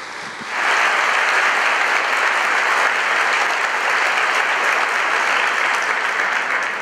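A church congregation bursts into applause after a sermon prompt, the clapping swelling quickly into a loud, dense, sustained wash that holds steady throughout.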